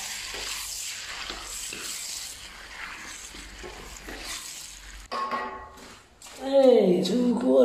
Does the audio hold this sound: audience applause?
no